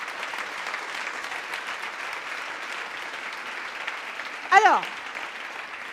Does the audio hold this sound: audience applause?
yes